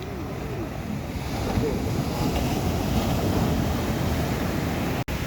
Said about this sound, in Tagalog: katindi ng alon.